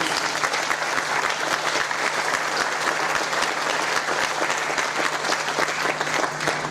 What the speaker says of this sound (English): round of applause again for both our lovely ladies